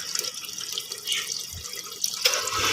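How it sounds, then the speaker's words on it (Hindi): Fresh water pours from a hand-operated motor pump at a newly replaced tank, a close, light splashing trickle with small irregular drips and gurgles, no voices. "ये देखें दस्ती मोटर चली है"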